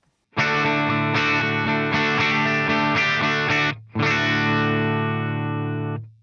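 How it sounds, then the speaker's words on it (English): An Eastman SB59 electric guitar on its bridge pickup, a Seymour Duncan Classic 59, runs through a BlackOp distortion pedal: loud, saturated chords ring out in several strums, a brief break, then one last chord sustained and fading. "I am using the Eastman SB59, and it does have Seymour Duncan Classic 59 pickups"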